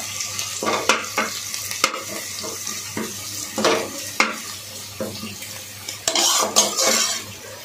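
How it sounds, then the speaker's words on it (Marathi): Onions frying in a pan for biryani, a soft sizzle beneath frequent spoon stirs and metallic clinks of utensils against cookware, close and fairly busy. "कांदा पण आपला तांबूस झालाय, थोडा अजून होऊ द्या"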